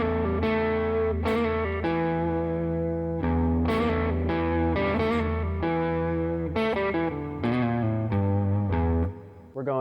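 A distorted electric guitar plays a short blues lick of bent and sustained notes, loud and close, ringing out before fading at the end.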